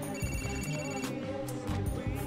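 A phone rings in the video game GTA 4, a repeating electronic ringtone with short trilling bursts over game background noise, fairly loud and close.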